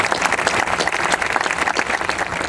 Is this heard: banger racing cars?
no